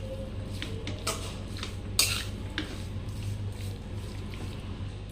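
Salted chicken being mixed in a bowl for chicken pickle, with soft clinks and scrapes of a spoon against the bowl, close and fairly quiet over a steady low hum, one sharper knock midway.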